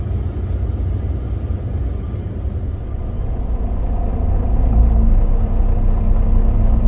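Steady low rumble of a car cruising a long highway stretch between Manitoba and Missouri near Minneapolis, heard from inside the cabin, continuous and fairly loud, swelling slightly midway with no talking.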